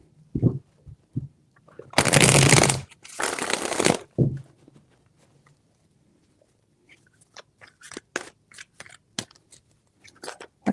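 Tarot cards are shuffled in two loud riffling bursts, followed by softer sparse taps and slaps of cards being handled in a quiet room.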